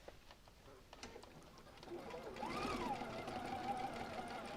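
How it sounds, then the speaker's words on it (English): A home sewing machine stitches a pieced quilt row together, its motor hum rising from faint to a steady, close whir that holds to the end. "I can sew this row together"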